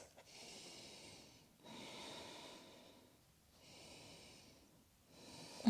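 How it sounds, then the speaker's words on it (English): Slow, deep breaths during a backbend and heart-opening yoga air flow: about four long, hushed breath cycles, close and quiet, with no talking. "Let's take 2 more breaths."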